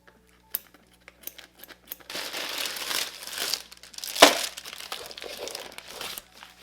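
Iridescent plastic packaging of new nail products crinkles and rustles in bursts as it is opened, growing louder midway with a sharp crackling peak, then settling into softer handling sounds.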